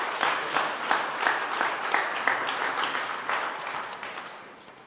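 Audience applause at a Colorado press conference with the governor and legislative leaders: a steady wash of many hands clapping together at moderate distance, fading gradually over several seconds with no voices over it.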